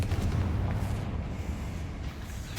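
Confringo spell explosions in Hogwarts Legacy, a dense, loud barrage of booming blasts and rumbling impacts rolling continuously from start to finish.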